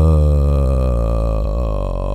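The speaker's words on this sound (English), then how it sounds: "slide down to your vocal fry while still trying to keep the resonance in your chest" A bass singer holds a low chest-voice tone and slides downward into a crackling vocal fry while keeping chest resonance, one loud sustained voice alone throughout.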